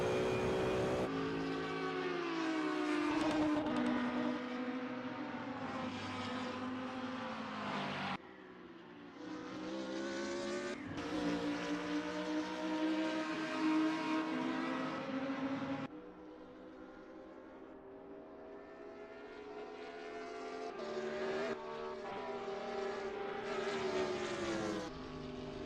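Several GT3 race cars, including a BMW Z4 and a Lamborghini Huracan, lapping Vallelunga in qualifying in a racing video game; loud, continuous engine drone with shifting pitch and gear changes, no talk.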